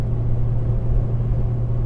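Steady loud droning cabin noise inside a Citroen AX GT cruising at 120 in fifth gear, a constant low engine hum with road and wind roar filling the interior, no talking.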